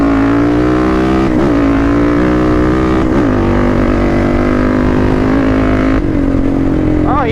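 A Yamaha Raptor 686 quad's engine roars loud and close, holding a strong, steady drone. Its pitch swells and dips a few times as the rider accelerates through the gears.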